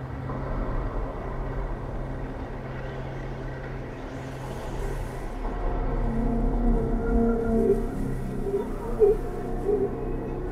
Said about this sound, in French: Un vent puissant se lève sur les côtes et souffle sur le désert.